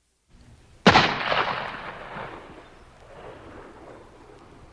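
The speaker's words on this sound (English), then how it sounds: "Carter Drews was calm as he pulled the trigger of his gun." A single sharp gunshot cracks out close and loud after a brief low rumble, then rolls away in a long fading echo over several seconds.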